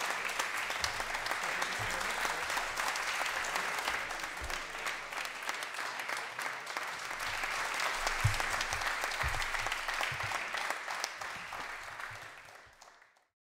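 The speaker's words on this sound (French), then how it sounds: "On l'applaudit encore, s'il vous plaît, vraiment." Sustained audience applause at a music showcase competition, steady dense clapping for about twelve seconds before fading out to silence.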